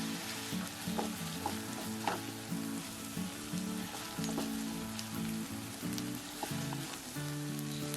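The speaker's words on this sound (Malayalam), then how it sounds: "2 മീഡിയം സൈസ് ടൊമാറ്റോ ചോപ്പ് ചെയ്തതും ഇതിലേക്ക് ചേർത്ത് ഇളക്കുക." Chopped tomatoes with salt frying in a pan for tomato chutney, a soft continuous sizzle with crackling pops and repeated scraping stirs of a spoon against the pan, fairly quiet and close.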